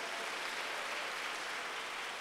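Church congregation applauding during a pastor's sermon, a dense, even wash of clapping from many hands that continues steadily throughout, with no speech over it.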